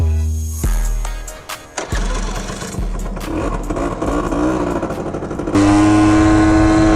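A Honda Cub EZ90 mini bike scooter engine revs and putters while riding, loud and close, with pitch rising and falling through gear changes before settling into a steady high drone.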